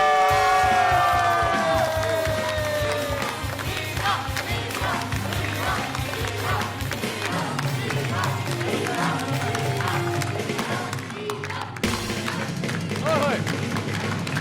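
Studio audience clapping and cheering for guest Meera at an Eid special talk show, dense sustained applause that starts loud and continues throughout, with a brief dip near the end.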